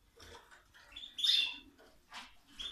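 Timbrado español canaries in an aviary give a few faint, scattered chirps and short trills, close but quiet with gaps between calls.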